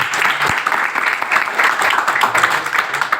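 A seated audience at an IMC business meeting breaks into brief, lively clapping, a dense crackle of many hands that carries steadily through the short stretch.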